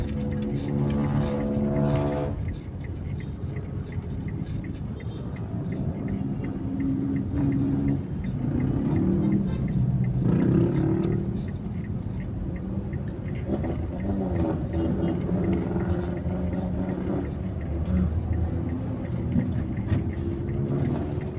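Road traffic heard from inside a moving vehicle on a city road, a continuous engine and tyre rumble with passing vehicles swelling and fading, with some talk over it.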